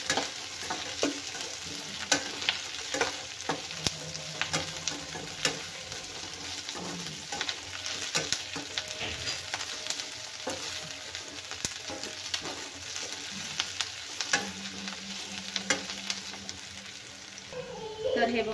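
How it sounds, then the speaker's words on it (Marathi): Ginger and dried coconut roast in a pan for soybean gravy, giving a steady broadband frying sizzle with repeated scraping stir strokes throughout, near and fairly loud, with a faint low hum under it and no talk. "आता घालूया आपण अद्रक, वाळलेलं खोबरं. ते छान लाल होईपर्यंत आपल्याला भाजून घ्यायचं आहे."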